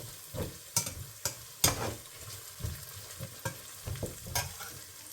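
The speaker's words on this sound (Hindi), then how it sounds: "मसाले को हम भुनेंगे। जब ये अदरक लहसुन डाला है ना" Spiced masala with ginger and garlic fries in a pot while being stirred for mutton biryani. A soft, steady sizzle runs under repeated scraping and clanking stir strokes at uneven intervals, heard close up without speech.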